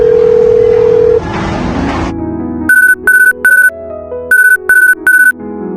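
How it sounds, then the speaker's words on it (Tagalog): Phone ringtone for an incoming call: a steady electronic tone, then a melodic ring in six sharp repeating bursts, grouped in two sets of three, loud and close with no talking. "Tayo may nanawag."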